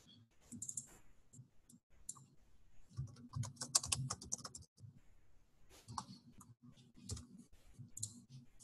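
Computer keyboard keys and a mouse clatter in quick, close, irregular clicks at a desk while report values are typed in, with brief pauses between flurries.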